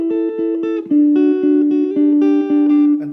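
Acoustic guitar fingerpicking a repeating pattern for a song's chorus, individual notes plucked in a steady rhythm over sustained chords, close and clear with no voice.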